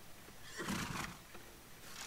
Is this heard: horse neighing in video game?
yes